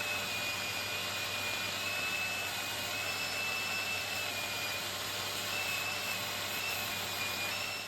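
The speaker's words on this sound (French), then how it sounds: "C'est parti pour le ponçage." A belt sander smoothing the edges of a wooden toilet-paper holder, giving a steady, loud, continuous whir with a high whine running unbroken throughout, no talking.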